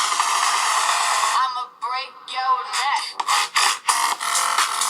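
Music or a voice playing through small, thin-sounding low-power laptop speakers on a $70 laptop, bright and lacking bass, with tinny uneven bursts toward the end.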